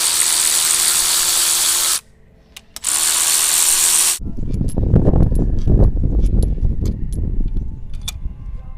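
Pneumatic impact tool removing cylinder head bolts from a 440 Mopar engine during teardown: two loud sustained whirring bursts split by a short pause, followed by close metallic clanks and rattling of loosened bolts.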